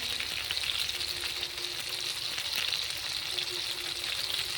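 Eggplant slices frying in a pan, a soft, even crackling sizzle that holds steady without pause and with no voices.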